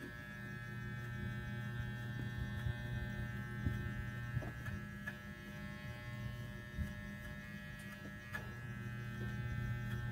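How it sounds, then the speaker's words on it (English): A Walmart electric hair clipper buzzes steadily during a number one mid fade haircut, a faint constant hum with small ticks and taps as the blade moves over the head. "Look how I have the clipper perpendicular to the head and then flick up."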